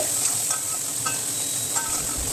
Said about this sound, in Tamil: கொத்தமல்லி, புதினா இதுவும் போட்டு நல்லாவே வந்து சாட்டே பண்ணிவிட்டு